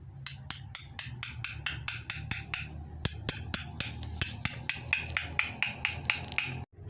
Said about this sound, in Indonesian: Ini setelah dipahat ya